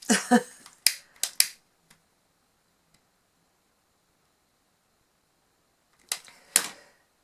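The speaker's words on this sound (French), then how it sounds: "Mon petit briquet." A small lighter clicks in a few sharp, close snaps and flicks, then a long quiet gap before two more crisp clicks, used while making beaded bookmarks.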